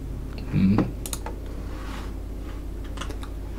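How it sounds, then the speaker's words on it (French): Clicks from a noisy mechanical computer keyboard come in short irregular bursts of keystrokes, close and moderately loud, with a brief murmur of speech near the start. "c'est un clavier avec des touches qui font du bruit"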